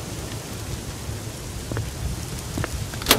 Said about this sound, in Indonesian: Dan masih hujan, kita lagi kencengin dikit volumenya biar gerget.